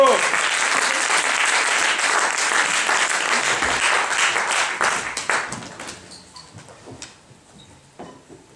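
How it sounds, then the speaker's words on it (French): Concert audience applause, loud sustained clapping from a crowd that gradually thins and fades into scattered claps, with a voice speaking over it. "je vous demande de l'applaudir bien fort."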